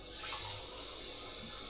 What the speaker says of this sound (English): Right, so I'm just putting some water in.